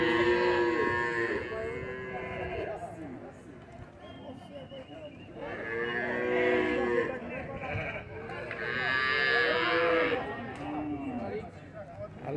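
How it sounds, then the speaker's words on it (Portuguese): Cattle low at a traditional livestock fair in São Bento do Una, Pernambuco. Several long, wavering moos come in waves, mixed with bleating sheep or goats, while people talk in the background of the busy market. "Aqui é feira de gado aqui, ó."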